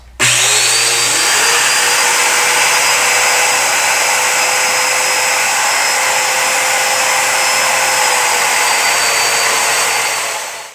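A domino joiner cuts slots into wooden table legs. The motor starts abruptly and whines loudly and steadily for about ten seconds at close range, then spins down.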